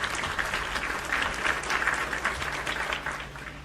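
An applause sound effect plays on a gaming stream, a continuous wash of many hands clapping at moderate, fairly even loudness for a few seconds.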